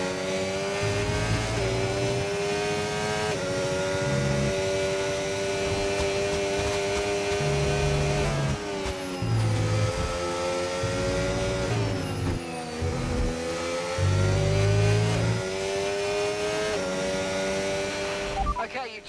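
Race car engines in the F1 25 video game whine steadily and loud throughout, with pitch rising and dropping through gear shifts on a final lap, while a voice talks over the top at times.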